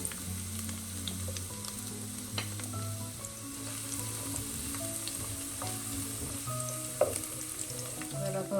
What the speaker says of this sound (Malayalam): എണ്ണ ചൂടാകുമ്പോൾ ചെറിയ ഉള്ളി ചേർത്ത് വയ്ക്കാം